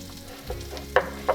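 Chopped celery frying in a pan of butter and bacon grease, a low steady sizzle with a couple of sharp clinks or stirs near the end.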